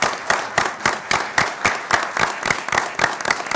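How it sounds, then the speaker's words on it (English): Applause from an audience at a school board meeting, with rhythmic claps spaced roughly every third of a second and some overlapping hands, fairly close and moderately loud, lasting a few seconds. "why don't we give them a round of applause?"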